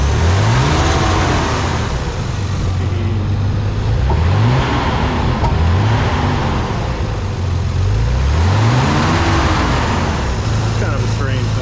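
Turbo Nissan 300ZX engine with a fuel delivery problem revved repeatedly by hand at the throttle, several rising and falling rev sweeps close by, with someone talking over it.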